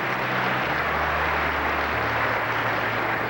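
A gymnastics crowd applauds a routine at a 1983 national championship, a dense, steady wash of clapping from many hands filling the arena for a few seconds, with no voices on top.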